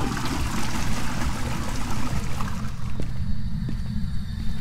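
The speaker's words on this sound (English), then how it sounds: "That is the first time I've heard the toilet flush." A toilet flushes inside the Ridgeview Road house in the horror game Phasmophobia, a steady rushing gush of water that runs on for several seconds and then drops off, with faint knocks near the end.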